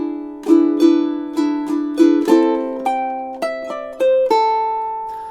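An island strum pattern on a ukulele across measures 8 and 9, with about ten crisp strums whose chords shift and rise toward the end, played close and alone with ringing decays.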